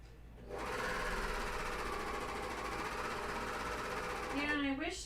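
A serger sewing machine stitching underwear fabric, a close, steady rapid mechanical whirr running for several seconds before winding down, with a voice speaking as it stops.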